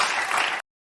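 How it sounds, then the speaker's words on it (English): An audience bursts into brief, dense applause that cuts off abruptly after about half a second. "They clap. That's the clapping of the audience."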